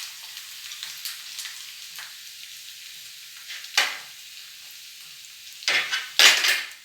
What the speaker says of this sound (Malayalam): ഉഴുന്ന് പരിപ്പ് പൊട്ടി വരുന്നുണ്ട്